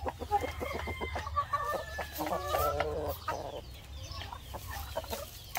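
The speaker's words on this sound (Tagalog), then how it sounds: "Baka sakaling hindi awain itong inahin na to." Rhode Island Red hens cluck repeatedly in a farmyard, short close clucks over a steady low background hum, with no voices.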